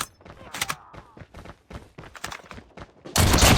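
Marksman rifle shots crack in a fast-paced multiplayer shooter game in a rapid series of sharp bursts, with a loud blast of noise at the end, all close and punchy.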